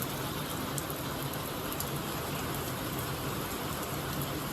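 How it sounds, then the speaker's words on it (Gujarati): Steady, dense rainfall pours down without a break, a continuous broad hiss with faint patter throughout and no voices. "જો આયા વરસાદ ફૂલ વરસાદ આવે ફૂલ સીટે"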